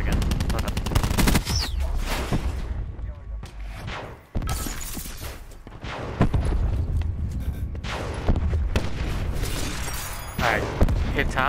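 Heavy gunfire in a shooter video game, with rapid automatic bursts, shattering impacts and booms packed tightly over nearly the whole stretch, a brief lull near the middle, and players talking over the action.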